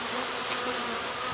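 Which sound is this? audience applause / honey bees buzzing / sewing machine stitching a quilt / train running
honey bees buzzing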